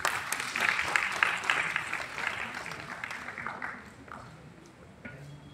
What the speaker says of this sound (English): Let's all clap for him.